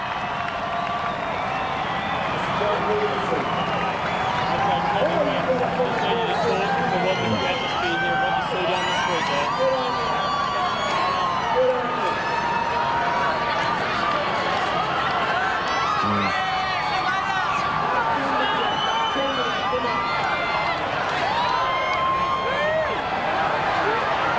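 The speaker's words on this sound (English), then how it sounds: "And the roar from the crowd." Large street crowd cheering and roaring along the Olympic torch relay route through Sydney, sustained and loud with scattered whoops, whistles and clapping, and voices heard throughout.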